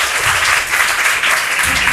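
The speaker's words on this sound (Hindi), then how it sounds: "पल्लवी के लिए प्यारा सा बैग आता हुआ एक जोरदार ताली होनी चाहिए।" A quiz show audience applauds, sustained, dense clapping that fills the whole moment loudly and evenly, with no voices over it.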